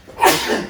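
A single sharp human sneeze, loud and close, a quick burst with a short trailing tail, heard alone.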